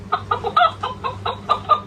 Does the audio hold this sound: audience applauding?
no